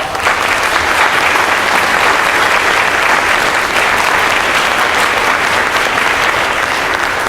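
Sustained, loud applause fills a high school spring orchestra concert hall as the audience claps for contributors, a thick unbroken wash of many hands clapping throughout.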